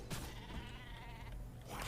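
A sheep bleats in V Rising, a single drawn-out wavering cry close by and fairly quiet.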